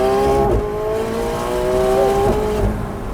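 Lime green 2024 McLaren 750S supercar engine revving loudly close by, a steady high-pitched whine that rises and dips slightly over a rumbling base.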